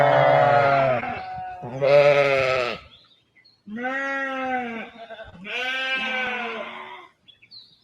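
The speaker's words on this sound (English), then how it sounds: "the sheep and alpaca have gotten used to getting fed" Sheep bleating loudly and close at evening feeding time on a fiber farm kept with alpacas, four long wavering calls in two pairs separated by a brief pause, with no talking.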